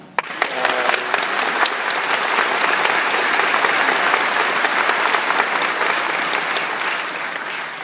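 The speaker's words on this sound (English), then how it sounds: "Please join me in a round of applause for them." Audience applause at a graduation ceremony honouring instructors, a steady, dense wash of clapping from a large crowd that holds for several seconds before easing off slightly at the end.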